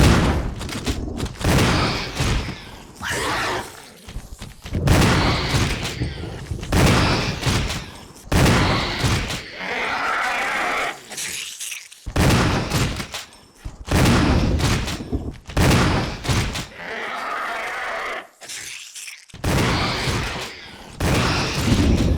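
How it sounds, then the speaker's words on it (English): Repeated shotgun blasts in Resident Evil REmake, fired at Hunter Alpha creatures, heavy booming shots in an irregular rhythm with brief gaps between volleys, loud and close throughout. "We are gonna test the shotguns on good old Hunter Alphas."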